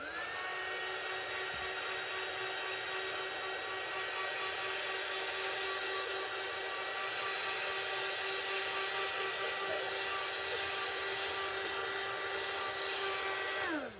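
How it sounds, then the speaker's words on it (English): An electric dryer blows steadily while drying white paint on a craft project by a sink, a constant whirring, rushing drone held at even level for about fourteen seconds before it shuts off. "I'm going to use my dryer right here by my sink."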